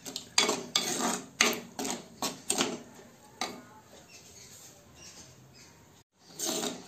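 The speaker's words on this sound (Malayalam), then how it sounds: "അപ്പോൾ ഈ പഞ്ചസാര ചേർത്തിട്ട് നന്നായിട്ടൊന്ന്" A spoon clinks and scrapes against a pan in quick repeated strokes as grape pachadi is stirred with sugar, then the sound drops to quieter rustling before one last clatter.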